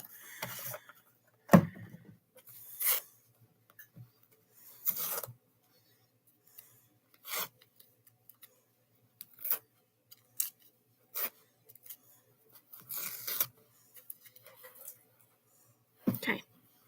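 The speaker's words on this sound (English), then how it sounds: "I'm trimming things up that I probably don't need to trim" Scissors trim threads on a piece of embroidery with quiet, scattered snips and brief rubbing sounds in a still room, with gaps between the cuts.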